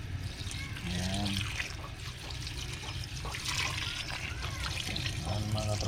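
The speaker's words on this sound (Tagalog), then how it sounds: "Lalagyan natin yung tubig niya" Water pours steadily into a pot, trickling and splashing, while someone talks nearby.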